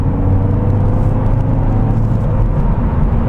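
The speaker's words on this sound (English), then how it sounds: "we're just going to see about this acceleration once more. Now pulling from third gear." 2016 Volvo V40 D2 diesel pulling hard from third gear, a loud, steady engine drone with road rumble filling the cabin, continuous and close throughout with no talking.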